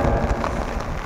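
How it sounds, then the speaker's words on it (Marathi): Heavy monsoon rain pours in a steady, dense roar with no gaps, loud and close. "पुरा निस्ता पाऊस आहे मित्रांनो।"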